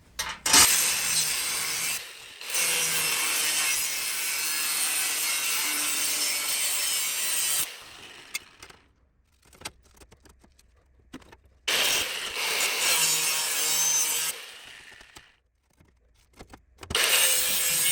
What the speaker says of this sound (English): So I'm just cutting these to fit.